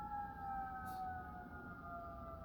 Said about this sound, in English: that's a siren going by.